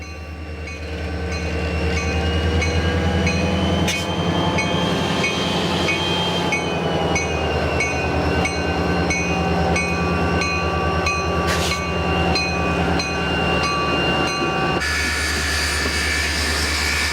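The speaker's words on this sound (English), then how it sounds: "The diesel works hard as it pulls the heavy engine and water bottles up the grade." A diesel locomotive labors up a grade, hauling the heavy Union Pacific Challenger 3985 steam engine and its water tenders, a steady loud engine drone with rumbling railcars and a couple of brief horn-like tones.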